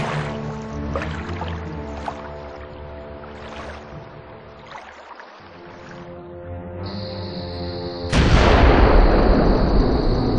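In an Agatha Christie video game, a heavy gunfire blast on command bursts in near the end and roars on loudly, following a stretch of droning tonal game sound.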